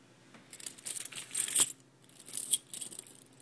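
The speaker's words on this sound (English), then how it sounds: "Those are all my fire alarm maintenance keys on a lanyard" A bunch of fire alarm maintenance keys on a lanyard jingles close by in bright metallic clusters of rattles, with two busy bursts separated by a short quiet gap.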